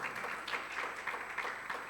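Congregation at a Sunday afternoon church service applauding together, a dense, steady wash of clapping with no voices heard.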